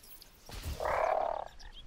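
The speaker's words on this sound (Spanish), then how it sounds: "son estos sapos infernales que me están atacando" Infernal toads in a Minecraft Witchcraft and Wizardry modpack give one drawn-out, buzzy croak, heard close and alone after a brief low thump.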